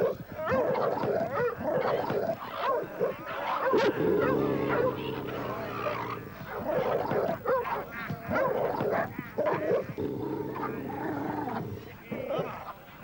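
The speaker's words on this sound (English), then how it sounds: "What's the matter with our dogs, Uglet?" Dogs bark, growl and whimper in a rural drama scene, close and agitated in bursts throughout, while several people talk over them.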